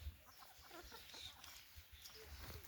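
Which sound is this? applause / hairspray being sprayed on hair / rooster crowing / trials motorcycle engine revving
rooster crowing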